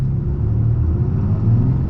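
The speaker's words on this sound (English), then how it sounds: "we're gonna be getting our acceleration here with the high output" A 2023 Ram 3500 Limited Night Edition heavy-duty pickup with the high-output engine accelerating at full throttle, heard from inside the cab as a loud, steady low rumble.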